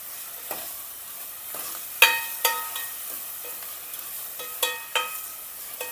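Spice powder and salt fry in the tempering for a quick dal rasam, a soft sizzle broken by several sharp scrapes and clinks of a spoon stirring against the pan, close and with no speech.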